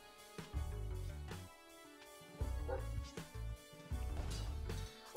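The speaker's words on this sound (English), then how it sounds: "Oh my god, dogs, shut up." Dogs bark in the background of a home recording setup, faint and intermittent beneath louder, steady game music.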